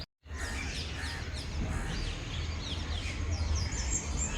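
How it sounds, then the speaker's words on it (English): Parrots chirp outdoors, a scatter of sharp, fast high calls over a loud, steady background rumble after a brief silent start. "Oh, parrots."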